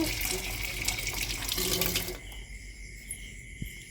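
A tap runs steadily into a sink for hand washing, a broad hiss that drops off sharply partway through, leaving a quieter room with faint movement.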